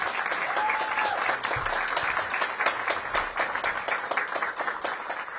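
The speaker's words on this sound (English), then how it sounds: "So give them a big round of applause." An outdoor crowd at a ribbon cutting for a city stabilization center applauds steadily, many hands clapping at moderate loudness, thinning slightly toward the end.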